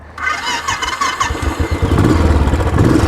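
A 2019 Royal Enfield Classic 500 motorcycle's electric starter cranks slowly before the single-cylinder engine catches and settles into a loud, steady chugging idle nearby.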